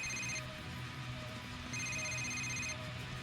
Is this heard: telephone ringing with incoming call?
yes